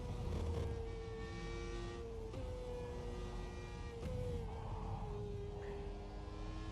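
A race car engine in the rFactor 2 racing game drones loudly and continuously, its pitch dropping sharply at a couple of quick upshifts before climbing again.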